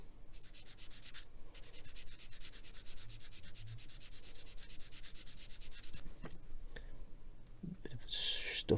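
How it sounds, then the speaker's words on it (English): A plastic model kit part for a Warhammer 40K Imperial Skitter kitbash is sanded with a squishy medium-grade sanding block, giving a steady, close, soft rubbing hiss that runs almost the whole time with a few small knocks near the end. "Now if we get the squishy sanding block, not a hard one, but my sort of medium grade I suppose it would be, I'm just going to give this a bit of a sand"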